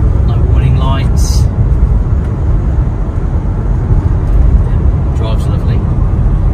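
A 2019 Vauxhall Vivaro 1.6 CDTI van drives along with a low, steady road and engine rumble filling the cabin, while someone talks over it.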